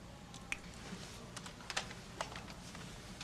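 Quiet, close typing on a computer keyboard: a sparse scatter of light key clicks and taps, irregularly spaced, over a faint room hum, with no talking.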